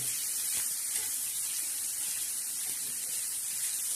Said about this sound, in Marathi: तेलामध्ये मस्तपैकी असा कांदा टाकून द्यायचा आणि असं चांगला फ्राय करायचा कांदा